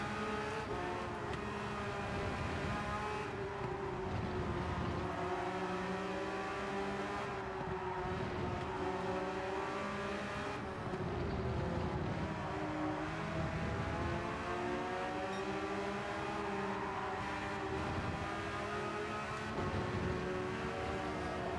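A Porsche race car in Gran Turismo 7 drives continuously, its engine whine holding steady and rising and falling through gear changes and throttle lifts, close and unbroken with no talk.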